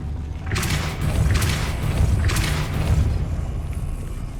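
Depulso force-push spell cast in the video game Hogwarts Legacy: a few whooshing bursts with dull booming thumps in quick succession over a low rumbling background.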